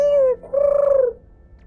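A pigeon in the video game Sheepy: A Short Adventure gives two close cooing calls, a short note and then a longer wavering one, clear and alone over a faint background hum.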